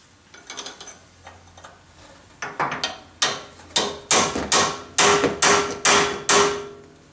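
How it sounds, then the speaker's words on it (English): A big hammer hits the steel spindle of a Ford Explorer during upper ball joint work, a series of loud sharp metallic whacks, scattered at first and then coming in a fast steady rhythm, close up with no talk. "I smacked the spindle with a what they call a BFH."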